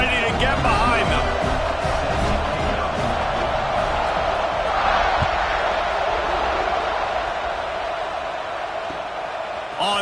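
Stadium crowd at a Georgia Tech versus Georgia college football game, a dense continuous roar of cheering and shouting that swells slightly midway, loud and steady throughout the ten seconds.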